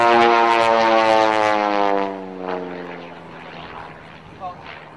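Light aircraft at an Old Buckenham airshow taxiing with its propeller engine droning steadily, loud and near at first, then fading somewhat as it moves away, with a brief bump near the end.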